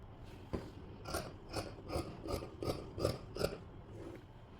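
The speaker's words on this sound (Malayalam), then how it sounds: "നമുക്ക് ഈ മാർക്ക് ചെയ്ത ഭാഗങ്ങളിലൂടെ കട്ട് ചെയ്തെടുക്കാം." Scissors cut through fabric along marked lines for a baby frock, giving a faint, close series of rhythmic snipping crunches, roughly one every half second.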